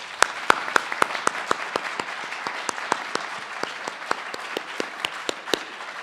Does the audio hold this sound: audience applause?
yes